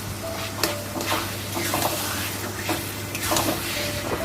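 Fish heads go into sizzling oil with leftover moisture for a Bengali ilish fish-head and taro-leaf curry, then are stirred; steady frying hiss with scraping spoon strokes against the pan throughout, no voices.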